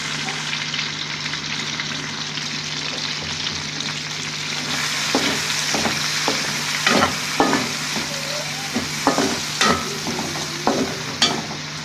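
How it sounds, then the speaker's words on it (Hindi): Halved tomatoes and browned onions fry in hot ghee for Sindhi biryani, a steady soft sizzle with a few sharp crackles and scraping stirs toward the end, no voices. "अब इसी घी में हम ये हाफ़ टमाटर डाल देंगे, और हाफ़ ये ब्राउन की हुई प्याज"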